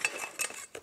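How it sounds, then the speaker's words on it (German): Camping cutlery (knife, fork and spoon) clinks together in a few quick metallic chinks, close and light, with no talking. "natürlich so ein bisschen Besteck, Messer, Gabel, Löffel."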